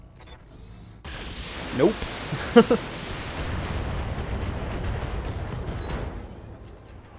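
Mech weapons fire in the Battletech video game, with an ammo explosion: a sustained rumbling barrage with a few sharp blasts and rising whooshes, loud and busy, with a brief spoken word early on.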